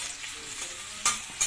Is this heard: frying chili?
yes